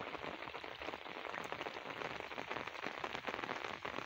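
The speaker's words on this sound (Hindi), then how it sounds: "बहुत तेज़ बारिश हो रही है।" Heavy monsoon rain pours steadily onto a surface near Punjab farm fields, a dense, even hiss of drops with no pauses, fairly faint and with no voices.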